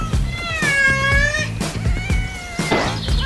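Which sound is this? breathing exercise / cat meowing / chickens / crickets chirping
cat meowing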